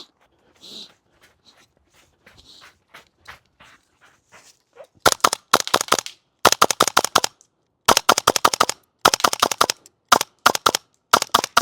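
A G&G SMC9 airsoft gun, running on uneven gas pressure, fires a few scattered soft shots, then rapid bursts of sharp cracking fire in quick clusters, close and loud, separated by short pauses.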